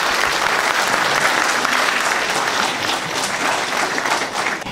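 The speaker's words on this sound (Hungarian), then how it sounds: "úgyhogy egy nagy tapsot mindenkinek" Dense, steady applause from a concert audience at an Advent concert in Sajóbábony, filling the whole stretch at a loud, even level and thinning slightly toward the end.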